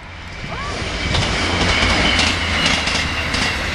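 An East Midlands passenger train running from Nottingham to Norwich rumbles past on the opposite track, with steady rail noise, wheel clatter and a brief wheel squeal, loud and close throughout.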